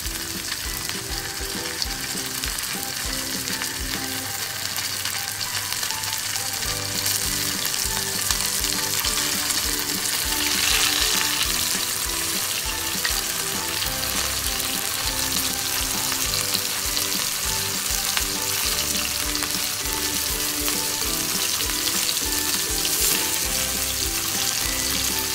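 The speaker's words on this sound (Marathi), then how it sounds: "बांगड्याला पहिल्यांदा रव्यामध्ये असं चांगलं घोलून घेणार आहोत आणि मस्त असं तव्यामध्ये फ्राय करून घेणार आहोत" Semolina-coated bangda mackerel fries on a flat tava, a loud, steady sizzle with crackling and stirring that runs on without any talk.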